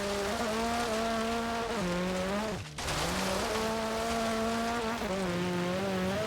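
A small rally car engine from a Peugeot, around 1.6 to 1.8 litres, drones loudly in a video game, holding steady revs with brief drops and a short cut before surging again, no talking.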